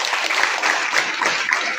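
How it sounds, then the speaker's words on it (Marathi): An audience claps loudly and steadily for a street play at a school event, a dense continuous patter of many hands with no voices above it. "तर मला वाटतं यांच्यासाठी आपण एकदा जोरदार टाळ्या वाजवूया."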